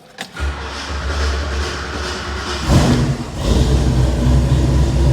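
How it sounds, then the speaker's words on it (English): A 1977 Ford Bronco, unused for at least a day, cranks briefly and fires up, settling into a loud, rough, close idle with a deep rumble that surges once midway before steadying again. "this is a full cold start"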